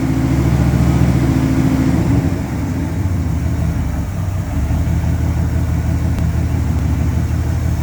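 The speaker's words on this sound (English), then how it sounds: "the up and down roller coaster of the engine speed, because when it goes rich, it picks up RPM, and when it goes lean, it brings down the RPM" A 1981 Daytona 500 pace car engine with a GM CCC computer system idles steadily and loudly up close, its low rumble rising and falling slightly as the idle surges, with no talking.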